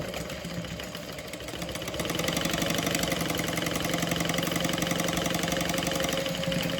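A sewing machine runs a quarter-inch seam on an Alaine handbag with folded edges, giving a steady, dense mechanical whir that grows louder after the first two seconds and continues without any talking.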